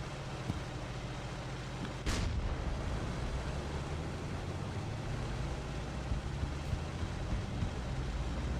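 A single sharp gun blast cracks out once in a War Thunder battle, then fades into a steady low rumble of engine and battlefield noise that runs throughout.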